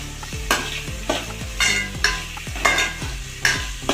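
Cardamom and a small piece of cinnamon roasting in a pan for Kerala-style chicken stew, a loud close sizzle broken by repeated sharp stirring scrapes about every half second, with no voices.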